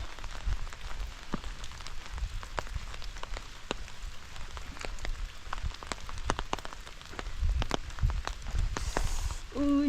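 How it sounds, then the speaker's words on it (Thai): Rain patters steadily on a surface in a forest, with scattered sharper drips standing out against the constant wash, fairly close by. "ฝนดีแท้ปีนี้นะ"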